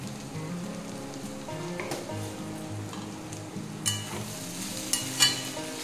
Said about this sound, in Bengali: এটা ভাজা হয়ে গেছে, খুব সুন্দর নরম করে ভেজে নিয়েছি।